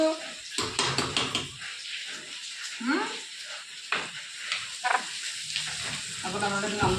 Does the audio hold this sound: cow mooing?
no